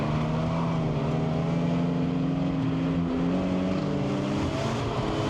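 Engine note from a Scion FR-S circling a rain-soaked race track, a steady droning hum from inside the car that holds fairly even with slight pitch shifts, no voices.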